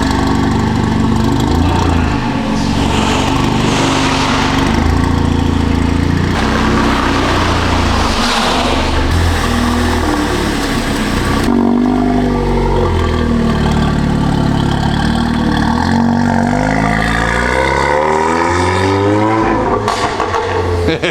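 A 500 bhp VW Golf R with a Revo Stage 3 tune runs loud and close, its engine droning steadily and shifting pitch as it pulls away and returns, with people talking faintly underneath.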